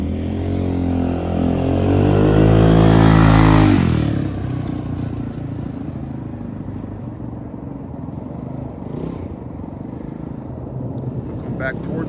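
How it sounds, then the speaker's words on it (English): MADDOG iSpare Gen 5 150cc GY6 fat-tire lowrider gas scooter on a test drive, a loud close engine revving and rising in pitch, then pulling away into a steadier, fainter drone as it rides off. "we got Adam taking the completed assembly for a test drive"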